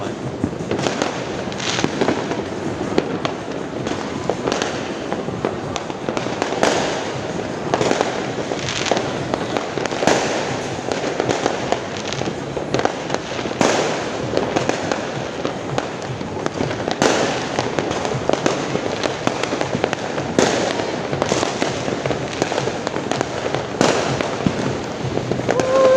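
New Year's Eve night fireworks explode nonstop, dense overlapping booms and crackles with frequent sharp loud bangs, some close and others distant, forming a continuous roar throughout.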